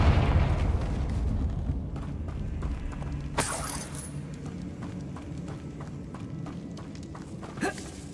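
A fire spell from Hogwarts Legacy bursts in a sharp, bright blast near the middle, with a second smaller burst near the end, over a steady bed of game ambience and light rhythmic footfalls.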